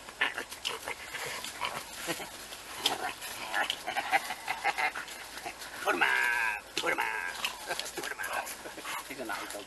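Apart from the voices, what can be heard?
dog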